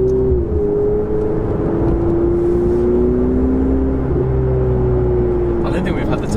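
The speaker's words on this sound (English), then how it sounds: "But damn, I'm driving a 488." Ferrari 488 GTB twin-turbo supercar engine droning steadily from inside the cabin while driving, a sustained low hum with slight pitch shifts and faint voices near the end.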